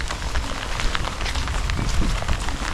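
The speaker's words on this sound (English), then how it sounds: "It's pouring down rain." Heavy rain pours down outdoors on a morning walk along a country route near Dover, a dense, steady hiss of drops drumming on surfaces with no let-up and no voices.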